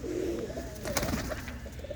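Soft, continuous cooing from a flock of prized pigeons in a Punjabi village loft, with low warbling calls layered over a steady murmur and no speech.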